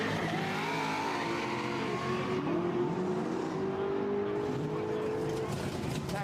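A hatchback racing at a Quick Street event passes with a rising, revving engine whine over crowd and commentary noise, the pitch climbing steadily before fading, with people talking throughout.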